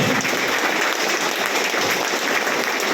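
Sustained, dense applause from a seminar audience gathered for a business plan talk in India, loud and even from start to finish.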